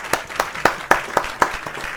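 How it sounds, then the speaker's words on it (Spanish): Clapping greets guest Juan Colmenares on a talk show set: about eight crisp, evenly spaced claps in a quick steady rhythm, close and distinct like only a few pairs of hands, with no speech over them. "vamos entonces a recibir nuevamente, con un fuerte aplauso, a nuestro querido amigo"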